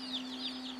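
Four-day-old Orpington chicks give a run of high, thin peeping calls, close and steady over a constant background hum.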